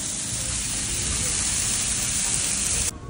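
Seasoned onions sizzle and char on a hot griddle, a loud dense close-up hiss that holds steady before dropping off abruptly near the end.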